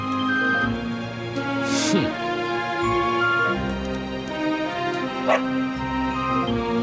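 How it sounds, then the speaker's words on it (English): A dog in Dragon Quest XI barks and yips in a few brief bursts over steady game music and town ambience. "Not a dog!"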